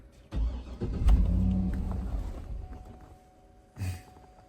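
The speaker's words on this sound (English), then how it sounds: "let's let the car run for a minute here." Car engine cranking and catching, then running briefly before dying as the mass airflow sensor is disconnected, a close rough rumble that fades out and is followed by another short start attempt.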